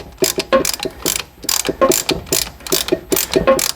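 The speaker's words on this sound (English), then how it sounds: "when you compress it, you want to compress it all the way back, but don't over tighten" Caliper piston compressor tool retracting a rear brake piston on an Audi C7 3.0T, giving rapid repeated ratcheting clicks in an uneven rhythm, close and loud.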